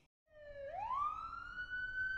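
Police car siren in a children's counting song about black, white, red and yellow police cars: a single clear wail rising in pitch and holding a long steady tone, fairly close and alone with no talk.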